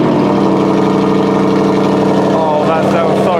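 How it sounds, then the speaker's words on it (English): A V8 engine on an Audi RS3 Saloon idles with a deep, steady rumble that stays close and loud throughout. "You just get so addicted to that glorious V8 roar."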